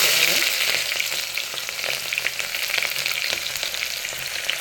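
Chopped onions sizzle and crackle steadily in hot oil for ghee rice, a close, continuous frying hiss with small pops and occasional stirring, no voices.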